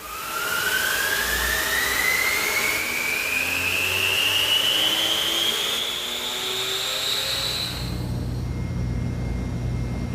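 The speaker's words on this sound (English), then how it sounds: "If you have one, an air mover can speed up the process." A portable air mover ventilates an enclosed space aboard a ship, giving a loud, steady mechanical roar with a whine that climbs gradually in pitch as it spins up, running continuously with no voices.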